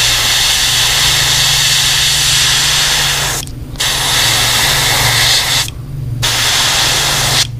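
An airbrush sprays paint onto a cicada popper fishing lure, darkening its underside: a loud, close, steady hiss over a low hum, broken by two brief pauses.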